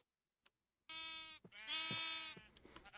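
Sheep bleating in Minecraft: after a brief silence, a few close, loud, wavering bleats follow one another across the whole clip, with no talking.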